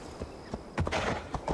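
A horse's hooves clip-clop in Assassin's Creed Valhalla, a handful of soft, uneven strikes at moderate distance, growing busier toward the end against quiet in-game ambience.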